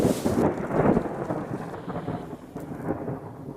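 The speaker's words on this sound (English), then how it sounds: "as you can hear, it's been thundering" Thunder rolls through a Colombian jungle with rain falling, a loud sustained rumble that gradually fades amid the steady patter of raindrops, with no voices.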